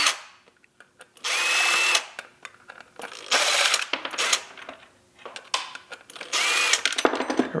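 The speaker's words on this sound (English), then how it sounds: "So this one, I'll go ahead and remove these two screws." A power driver removing screws from a KSG Armory Lexington holster clip, whirring in several separate bursts with small clicks and metallic taps between them, close and loud.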